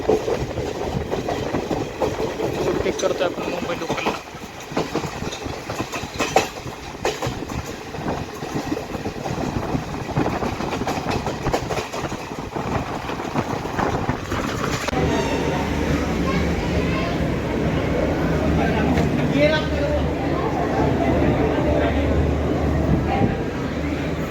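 The Garib Rath Express passenger train rumbles steadily along the rails near Borivali station, Mumbai, with a continuous rolling roar, and the clatter grows denser in the second half.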